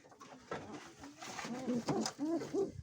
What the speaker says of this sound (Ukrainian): Це голубочка? Так, да, це голубка.